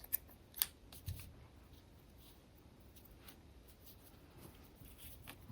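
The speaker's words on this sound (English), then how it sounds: "just pull the yarn through and then cut it off" Scissors snip through crochet yarn, giving two faint, quick cuts near the start, followed by soft, quiet rustling in a near-silent room.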